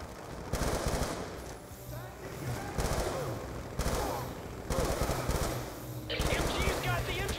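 Rapid machine gun bursts in Call of Duty Black Ops 2 repeat over several seconds in a game firefight, loud and dense, with other gunfire and explosions mixed in.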